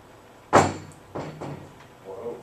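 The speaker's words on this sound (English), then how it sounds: "Let me shut this door." A door is pushed shut with one sharp thud, followed by a few softer knocks and faint rustling as it settles, close by in a quiet room.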